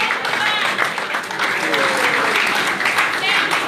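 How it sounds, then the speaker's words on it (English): An audience applauds at a presidential aspirant's event in a hotel hall in Port Harcourt. The clapping is loud and sustained with no letup, and voices come through underneath. "I think there's a louder round of applause."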